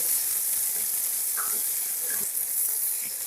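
A pan of chopped tomato fries while palak paneer is being made, giving a constant, moderately loud hiss with a few faint clinks.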